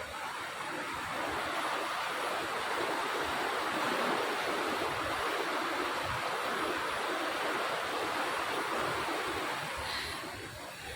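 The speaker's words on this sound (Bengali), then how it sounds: "খুব সুন্দর এখানে কিন্তু জল যাচ্ছে" Water flowing over rocks in a stream, a steady, dense rushing wash that holds at an even level throughout with no voices.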